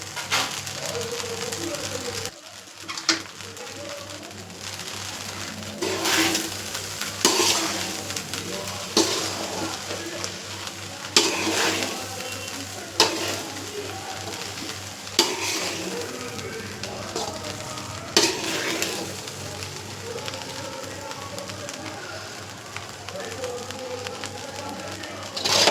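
Egg fried rice with coriander leaves being stirred in a pan, continuous sizzling with repeated scraping strokes of a spatula at a steady rhythm, close and clear.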